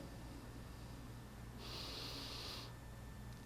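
A single deep breath is drawn in during a lying-down exercise for low-back pain. It comes as one faint, close airy rush in the middle, over a low background hum, with no talking.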